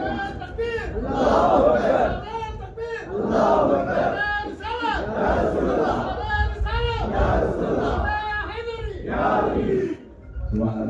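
A large crowd at a religious gathering chants the Nara-e-Takbir slogan in loud, rhythmic bursts of massed voices, repeated several times with brief pauses between calls.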